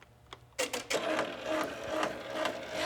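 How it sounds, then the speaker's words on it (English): An embroidery sewing machine starts stitching a cap after a few quiet beeps, then settles into a soft, quick rhythmic clatter close by with a faint whirring underneath. "and it would start sewing."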